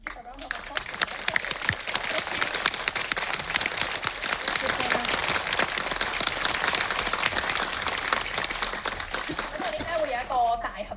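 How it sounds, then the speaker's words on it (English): Audience at a director's Q&A screening of the film 《黑箱日誌》 breaks into sustained, dense applause filling the room for most of the stretch, with voices and a few cheers mixed in. "Let's give a round of applause."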